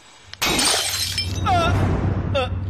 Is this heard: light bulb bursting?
yes